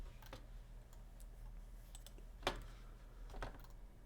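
Faint, scattered keystrokes clack on a computer keyboard, irregular clicks with one sharper tap midway over a low background hum, no voices.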